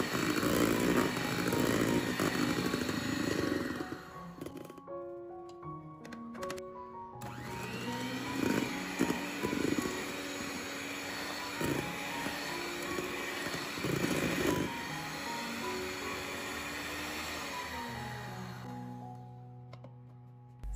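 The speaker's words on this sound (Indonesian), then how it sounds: "mixer dengan speed paling rendah, mixernya sebentar aja asal rata ya" An electric hand mixer at its lowest speed whirs loud and steady through banana cake batter, with brief stops and restarts that shift the motor's pitch across the run.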